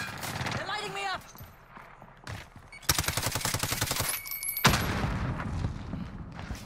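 Warzone gameplay gunfire: rapid automatic bursts crackle loudly and close, with dense overlapping shots and a booming report, after a stretch of talking in the opening seconds.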